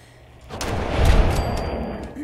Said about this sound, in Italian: l'ha fatta piccola l'esplosione